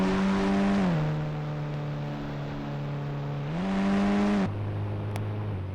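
A car engine in the Indian Bike Driving 3D video game hums steadily, then its pitch rises and falls as it speeds up, eases off and shifts, loud and close throughout.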